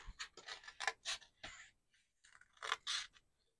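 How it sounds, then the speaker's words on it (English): Small scissors snip through paper to cut out flower heads for card making, a series of close, quiet, crisp cuts in short irregular bursts separated by brief pauses. "Then I'm just going to take a small pair of scissors"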